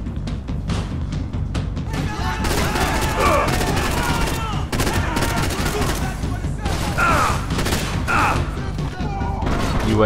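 Gunfire in the video game Max Payne 3: rapid bursts of loud, sharp shots, first a quick rattling string, then heavier clustered volleys and scattered single cracks, close and dense across the whole stretch, with a voice mixed in.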